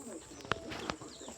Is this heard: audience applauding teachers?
no